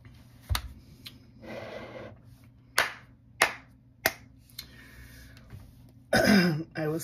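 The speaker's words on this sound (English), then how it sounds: "I will still give it a full 3 claps." Three sharp hand claps in a quiet home kitchen setting, spaced about a second apart, close and loud, with a few softer taps and a burst of noise near the end.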